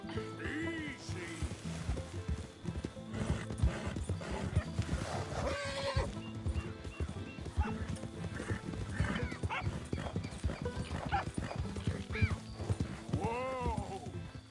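Horse hooves clip-clop steadily in a Western open-world video game as the animal is urged on, with snorts and whinnies, a voice speaking over it, and other wild-animal sounds mixed in.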